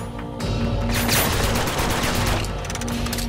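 Weapon fire in the video game Uncharted 2: Among Thieves, with a crossbow in use amid a dense, continuous burst of loud gunfire-like crackling and impacts lasting the whole stretch, no voices.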